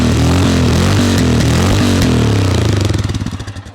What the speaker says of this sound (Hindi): ये आपका हिमालयन का एग्जॉस्ट।